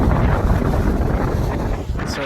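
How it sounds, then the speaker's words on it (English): Strong wind buffets a beach, roaring steadily and loudly into the microphone with gusting rumble throughout and a faint voice beneath. "It is super windy."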